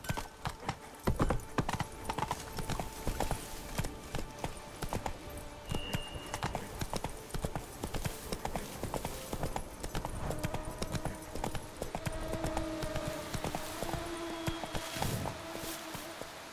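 Roach the horse trots in The Witcher 3, with steady, close hoofbeats clopping in a continuous rhythm the whole way through.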